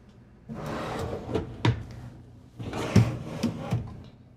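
Storage drawers and pull-outs in a 2026 Newmar Dutch Star 4340 motorhome slide open and shut close by, with wooden rumbles, soft thuds and a few sharp clacks as they stop, in two main bursts.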